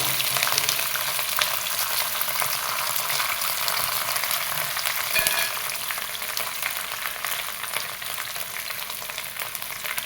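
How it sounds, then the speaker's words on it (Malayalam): Ginger and garlic frying with curry leaves in a pan of hot oil for a homemade Kerala-style lemon pickle, a steady close sizzle running throughout with a brief stir partway through, no voices. "കറിവേപ്പില ഇട്ട് ഒന്ന് വേപ്പിലൊക്കെ ഒന്ന് മുറിഞ്ഞതിന് ശേഷം നമ്മുടെ ഇഞ്ചി വെളുത്തുള്ളി ഇട്ട് കൊടുക്കാം"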